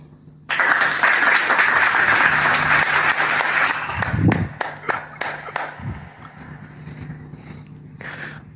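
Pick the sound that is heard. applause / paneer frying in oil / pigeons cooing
applause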